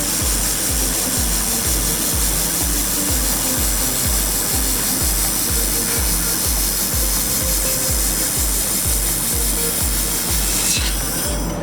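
Laser welding machine running along a metal seam, a steady dense hiss with rapid regular pulsing throughout, loud and continuous with no talk.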